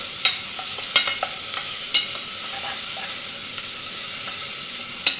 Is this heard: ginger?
yes